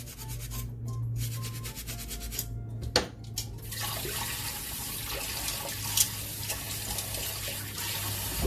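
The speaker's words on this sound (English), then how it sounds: "Here's a sink full of water for dishwashing" Dishes are being washed by hand in a sink full of water, with soft rubbing, scrubbing and sloshing close by, punctuated by a few sharper clinks and splashes.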